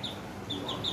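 Small chicks give a few high, thin cheeps, one at the start and three more in quick succession near the end, fairly faint against quiet background noise.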